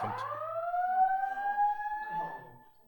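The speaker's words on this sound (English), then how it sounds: "That looks like a Actual fire alarm here?" A wailing siren-like alarm tone rises smoothly in pitch and holds steady, fairly loud and alone, then trails off quietly at the end.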